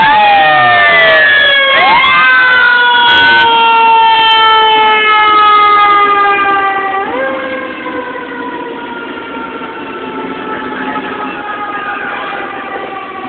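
A Seattle Fire Department engine siren wails loud and close on a fire response, sweeping up and down in steady electronic tones before shifting to a lower, steadier pitch, with an engine rumbling beneath it.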